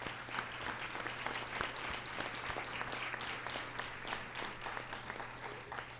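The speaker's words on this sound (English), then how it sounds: "they deserve a massive round of applause" Steady crowd applause at an Atlantic Sun conference press event honoring student athletes, continuous and even throughout with a low hum in the room.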